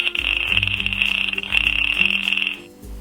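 A synthesized fart sound effect from a Commodore 64 game plays as a series of buzzy, stuttering low pulses under a steady high electronic whine, in short rhythmic bursts that stop abruptly near the end.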